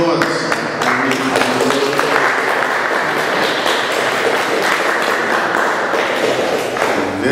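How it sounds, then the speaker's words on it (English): An audience applauds Dr. Vanus James after his talk on national development in Tobago, with a steady, dense wash of clapping that fills the room and runs continuously throughout, mixed with some faint voices. "Give him a round of applause."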